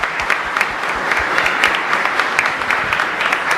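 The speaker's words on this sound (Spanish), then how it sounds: "Un fuerte aplauso para él." Applause from a congregation at a Catholic Mass in a parish church, honoring a deacon's ordination anniversary; dense, steady clapping fills the space evenly and at full volume throughout.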